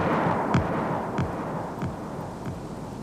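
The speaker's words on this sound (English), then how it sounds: "Any firework that went like this would be refused an import license." Four sharp booming blasts at even intervals over a dense rumbling roar, each a loud percussive burst like a firework detonating.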